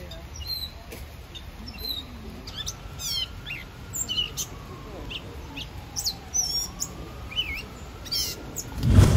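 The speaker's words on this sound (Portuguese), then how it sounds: "Ah, o passarinho ali. Olha lá, gente. Olha ele falando ali, ó. Olha, tá conversando." Small bird in Central Park, New York, giving a series of short high chirps and tweets scattered over steady city background noise, fairly faint and distant.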